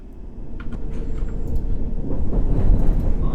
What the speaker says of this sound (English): This is how the train stops.